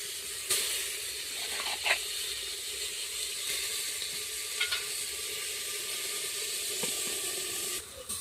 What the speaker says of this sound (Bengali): আর দেখুন মাংসটা হাঁড়ির মধ্যে দিয়ে দিচ্ছি